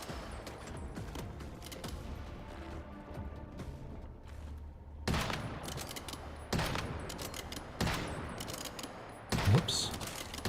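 Gunfire in the video game Once Human crackles in several loud bursts of rapid shots separated by quieter stretches of game ambience, with someone talking at times between the volleys.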